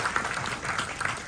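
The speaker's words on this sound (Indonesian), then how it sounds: "tunas tepuk tangan kidik ring alit-alit" A crowd applauds steadily at a Balinese temple ceremony at Pura Dalem Khayangan, Tanjung Benoa, with a dense, even patter of clapping throughout the short stretch.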